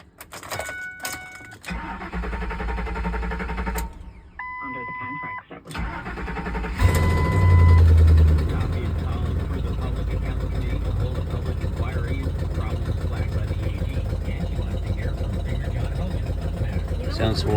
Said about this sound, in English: This has a blown out passenger side exhaust manifold.